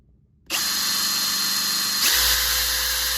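A Ridgid 4-mode impact driver spins up abruptly at speed 3 and holds a loud, steady whine, the pitch shifting slightly partway through, with no talking.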